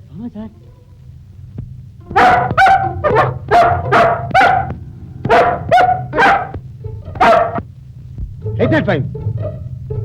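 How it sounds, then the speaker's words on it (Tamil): A dog barks repeatedly inside a police station, loud sharp bursts in a quick series of about nine barks with a brief whimper at the end, over a low background hum. "என்ன ஸ்டேஷனுக்குள்ள நாய் வந்துருச்சே?"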